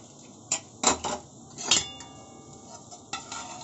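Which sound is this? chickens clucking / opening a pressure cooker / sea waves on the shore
opening a pressure cooker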